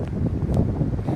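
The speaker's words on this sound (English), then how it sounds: "This is the windiest place on campus." Gusty wind on a university campus buffets the microphone in low rumbling bursts, loud and close, with no voices.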